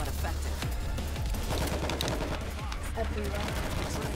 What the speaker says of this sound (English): I'm taking an AK